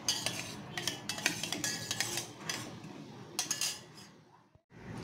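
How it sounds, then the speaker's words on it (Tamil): A spoon clinking and stirring milk with rose syrup in a vessel, rapid repeated metallic taps and swirls, close and fairly loud, ending in a brief pause and a final clink. "இது நல்லா கலந்து விட்டுக்கலாம்"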